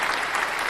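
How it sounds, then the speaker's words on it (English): Dense clapping from a crowd forms a steady wash of applause throughout the brief moment, with no voices standing out. "a round of applause for that"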